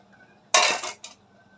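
A knife striking a cutting board while cutting green chillies and onion for noodles: one sharp, loud chop followed by a shorter second knock, close and alone in a quiet kitchen.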